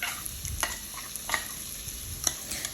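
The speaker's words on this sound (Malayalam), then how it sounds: "അത് കഴിഞ്ഞ് നമ്മൾ ചതച്ച് വെച്ചേക്കുന്ന ചെറിയുള്ളി അതിലേക്ക് ഇടുക" Crushed shallots dropped into hot oil for a prawn dum biryani, giving a soft steady sizzle with a few sharp crackles and spatters, close and fairly quiet, with no talking.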